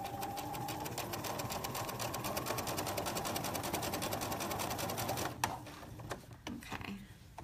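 A home sewing machine back-stitching a serged seam closed while sewing joggers, running in a steady rapid whir for about five seconds before stopping, followed by a few soft handling clicks.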